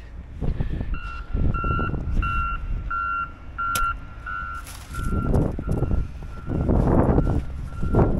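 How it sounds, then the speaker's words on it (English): A snowplough tractor's steady reversing beeper sounds repeatedly at an even pace over a low engine rumble, with a brief sharp click partway through, in snowy downtown Oshkosh, Wisconsin. "hear the tractor plow back up"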